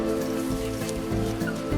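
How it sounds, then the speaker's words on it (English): Steady rain in the video game Planet Coaster 2, a soft continuous patter with a low background hum, even and unbroken throughout, with no voices. "Ooh, it's raining."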